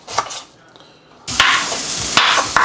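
A knife cuts through a quarter onion and trims fat from sirloin steak, giving a few sharp, close chops and scraping strokes on a board, with a quieter stretch before the louder cuts.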